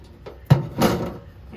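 A camper's exterior storage door being shut, giving a sharp thump followed by a second rattling knock, close by, with faint background noise.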